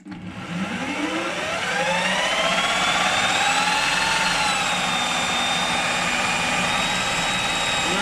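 A power drill driving an induction motor as a generator whines steadily, its motor pitch rising as it spins up and then holding a constant high hum without a break.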